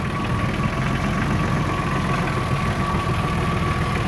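A tractor engine runs steadily in slushy, snowy, icy weather, a loud, close, continuous rumbling drone with a knocking vibration and no pauses or voices.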